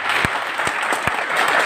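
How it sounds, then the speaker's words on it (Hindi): Audience clapping together at a talk or seminar, a steady broadband patter of hands with a few louder sharp claps standing out, filling the short stretch without voices. "बहुत अच्छी बात है, ताली बजाइए आपके लिए।"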